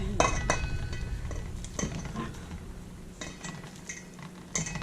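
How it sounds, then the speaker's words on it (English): Metal whisk scraped and tapped clean of homemade all-natural hand cream in a bowl, giving scattered clinks and scraping knocks at close range, with no talking. "Just trying to clean it out of the whisk."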